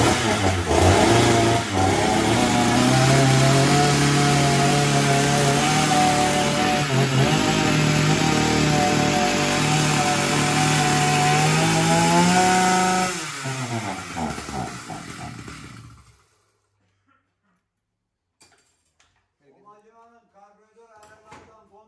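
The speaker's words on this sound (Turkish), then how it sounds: "Gayet temiz bir motor arkadaşlar" A Dolmar PS 9000 chainsaw engine runs loud and close at a steady pitch for about thirteen seconds, then revs down and cuts out, with a voice speaking briefly near the end.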